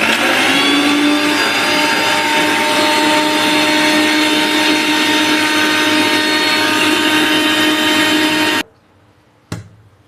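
A kitchen mixer grinder whirs steadily and loudly, grinding garlic and chili powder with salt, then cuts off abruptly near the end, followed by a single brief clack.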